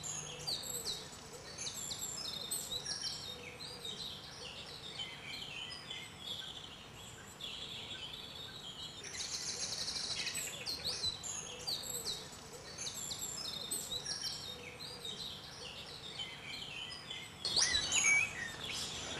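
Birds sing and chirp in a forest valley at Ploufragan in the Côtes d'Armor, with many overlapping high calls scattered throughout, some bursts nearer and louder, against a soft outdoor background with no voices.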